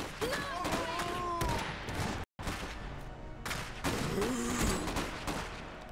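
Dense battle gunfire in the Iron Harvest strategy game, rapid overlapping shots and booms rolling continuously with a brief dropout midway; a voice talks over parts of it.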